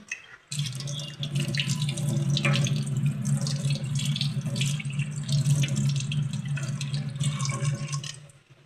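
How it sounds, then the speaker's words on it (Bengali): Hands being washed under a running kitchen tap, a steady close stream of water with splashing and dripping, continuous for about eight seconds after a brief quiet start, with no voices. "হাতটা ধুয়ে নিই।"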